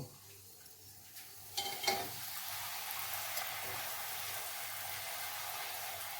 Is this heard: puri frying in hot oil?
yes